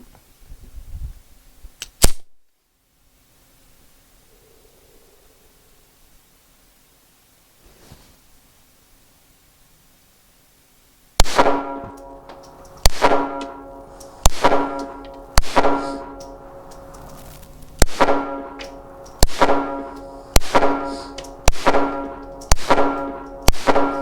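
A .380 pistol firing Blazer 95-grain ammunition: one shot, a long quiet gap, then a steady string of about ten sharp, loud cracks at roughly one-second intervals, each with a short ringing tail.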